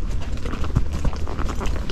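A young gaited horse walks along an outdoor trail past a scarecrow, its hooves clip-clopping in a loose, steady rhythm close by, with continuous low rumbling in the background.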